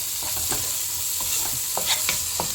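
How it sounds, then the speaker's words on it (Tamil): Crushed ginger and garlic frying with onions in a pan for Tamil country chicken gravy, a steady close sizzle broken by scraping stirs of a spoon against the pan. "உடலில் இடித்த இஞ்சி பூண்டு போட்டு நல்லா சொல்லிட்டு"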